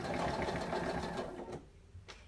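Sewing machine stitching along the old seam line of denim jeans being turned into a skirt, a steady close motor run that stops partway, leaving a couple of faint clicks.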